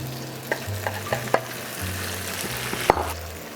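Fried pork ribs sizzle in a wok for sweet and sour ribs, a close steady frying hiss with a low hum and several sharp clanks of a utensil against the metal.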